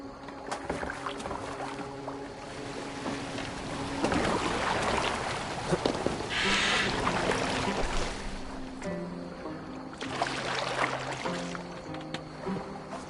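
A boat gliding over water in Assassin's Creed Valhalla, soft rhythmic splashes and water wash under a quiet musical score, with swells of louder splashing in the middle.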